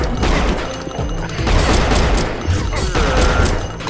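Auto Mag pistol firing in Unreal Gold: loud, dense bursts of rapid gunshots with crashing impacts and booms, filling the whole stretch.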